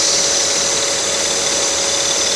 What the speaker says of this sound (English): My little blower is engaged there. It's getting rid of all the, the dust which may lay on the cut line sometimes.